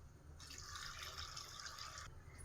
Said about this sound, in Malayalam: ഈ വെള്ളം പാർന്ന് കൊടുക്കുക.